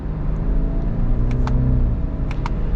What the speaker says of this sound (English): this turbocharged engine has some grunt, let me tell you